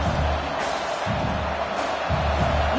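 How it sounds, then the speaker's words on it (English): Stadium crowd noise from the College Football 26 video game during an Oklahoma matchup: a steady, loud, broadband roar of fans that holds throughout, with swelling surges and no clear talk on top. "Listen to the crowd energy here in the early going."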